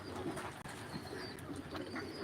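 Faint, low pigeon coos repeating softly against a quiet background, with a brief flutter of wings.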